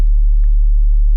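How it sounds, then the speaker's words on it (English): A pure sine-wave sub-bass tone with no overtones, a loud steady low hum that holds constant from start to finish, cut off cleanly at both ends. "let's go back to that regular sine wave"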